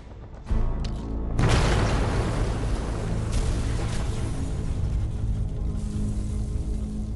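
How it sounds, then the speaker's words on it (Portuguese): A huge explosion of two tons of TNT erupts abruptly against a fortress wall, followed by a long rumbling roar of collapsing debris and echoes that slowly fades. "O Major Tom Dallas espera que 2 toneladas de TNT derrubem as muralhas."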